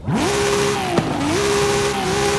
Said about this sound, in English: And then finally, we have racing exhaust